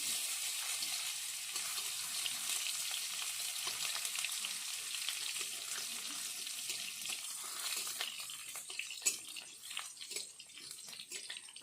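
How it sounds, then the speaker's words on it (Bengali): Crushed garlic, pounded on a grinding stone, frying in hot oil after whole spices were tempered, giving a steady close sizzle that runs unbroken throughout with a few faint clinks near the end. "রসুনটাকে একটু ভাজা ভাজা করে নেব।"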